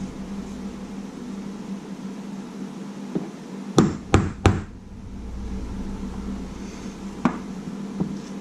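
Three sharp metallic hammer taps in quick succession, close by, over a low background hum, then a couple of fainter knocks, while rebuilding a Sears chainsaw carburetor.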